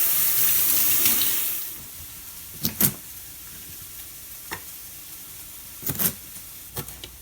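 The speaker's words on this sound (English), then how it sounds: "let's rinse and chop our greens" Tap water runs into a kitchen sink as greens are rinsed for vegan lentil cabbage rolls, a steady wash fading out early, followed by a few sharp clatters and handling knocks.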